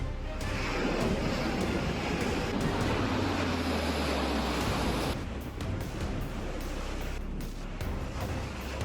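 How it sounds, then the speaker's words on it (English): Massive ocean waves crash over a breakwater on the coast of Brittany, a continuous loud roar of surf and spray mixed with gusting wind buffeting the microphone. "Massive waves crash over the breakwater in Brittany."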